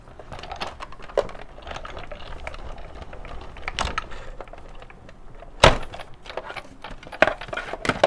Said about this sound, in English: run it back through my die cut machine